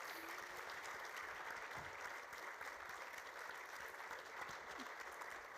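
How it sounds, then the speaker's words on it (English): Dense, sustained applause from an audience at an event honouring an ALS patient named Ananth, a steady wash of many hands clapping throughout with no break. "One more big round of applause for Ananth."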